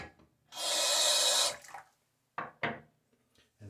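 A badger shaving brush is dipped back into water, giving a one-second rush of running water from a tap, then a couple of short splashes and drips close by in a quiet bathroom.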